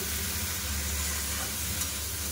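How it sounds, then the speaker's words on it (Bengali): Brinjal, potato and beans frying in hot oil with a nigella seed tempering, a steady dense sizzle that holds at an even level throughout with no voices. "আর এখানে বেগুন, আলু, শিম দিয়ে, কালো জিরা ফোড়ন দিয়ে"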